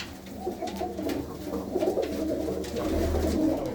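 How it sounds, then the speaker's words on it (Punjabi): Saadh Ghanda Banna pigeons coo in soft, repeated low throaty calls, several birds overlapping close by, alone. "ਇਹ ਜਿਆਦੇ ਜਿਹੜੇ ਸਾਧ ਕੰਡੇ ਬੰਨੇ ਵਾਲੇ ਕਬੂਤਰ ਆ"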